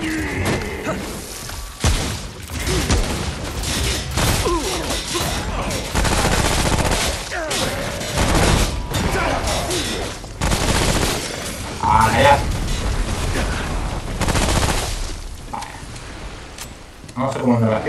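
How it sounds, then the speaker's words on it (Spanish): Shotgun blasts in the video game Remnant: From the Ashes, loud repeated booming shots in irregular bursts with clanks and thuds between, under someone talking excitedly. "Conocéis mi escopeta, ¿no?"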